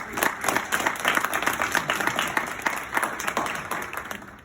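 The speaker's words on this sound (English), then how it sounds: "Let's all give him a round of applause now." A room of people claps together at a county electoral board meeting to welcome its newest member, a dense patter of many hands held steady for several seconds, close and fairly loud with no talking over it.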